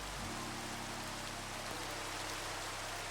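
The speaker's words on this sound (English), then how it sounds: "Yeah, there comes the rain." Steady Minecraft rain in a hardcore Skyblock world makes a continuous, moderately loud hiss throughout, with low game-music tones humming underneath.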